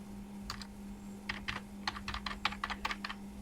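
Keys clatter on a computer keyboard as an ID card number is typed in, quiet irregular bursts of clicks over a steady low electrical hum.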